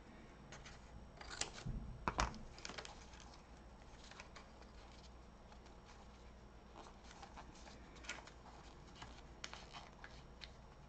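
Scissors cutting paper for a junk journal, giving quiet, close snips and crinkly rustles in small irregular bursts, with one sharper clack near the start and no talking.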